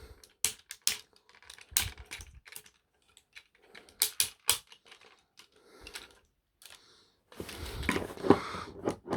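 Plastic legs of a 2001 Robots in Disguise Megatron transforming toy folded around by hand: a series of close, sharp clicks and ratchety snaps in bursts, separated by short pauses, ending in a denser rustle of handling.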